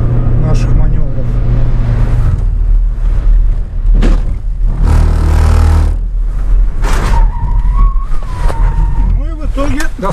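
A car driving on a snowy winter road rumbles with a steady low engine and road noise for ten seconds under someone talking almost throughout.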